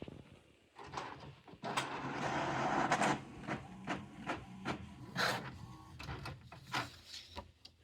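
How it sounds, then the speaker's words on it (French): Office printer running through a single project sheet, a steady mechanical whir with rhythmic clicks and paper-feed thumps, fairly close and alone. "donc je vais l'imprimer"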